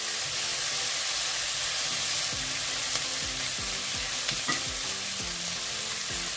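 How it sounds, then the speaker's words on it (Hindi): Butter chicken curry sizzles and fries in a pan as it is stirred after salt goes in, a constant close hiss with repeated scraping strokes of the spoon. "आता आमी हेतून मीठ घालतली आनी परती मिक्स करतली"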